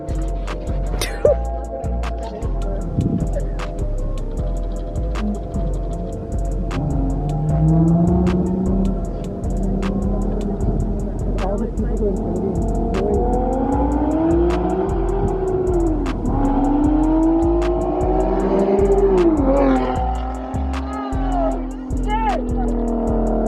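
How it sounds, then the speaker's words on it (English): A loud turbocharged car with test pipes roars past with rising and falling revs and some tire noise, while people talk nearby throughout. "this flyby is gonna be loud"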